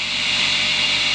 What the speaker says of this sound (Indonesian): dengan mesin vacuum cleaner